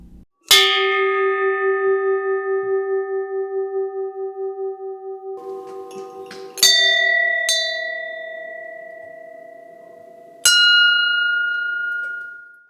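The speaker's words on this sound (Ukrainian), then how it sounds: "вдарити у дзвони перемоги зможе кожен охочий та зачитати молитву" Victory bells struck in Kalush town centre ring out clear and close, three separate strikes with long, ringing, slowly fading tones and gaps of near-silence between them.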